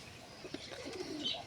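Young pigeon chicks, a few days old, white and grey, coo and chirp faintly close by in a quiet room, with soft rustling in the background and no talking.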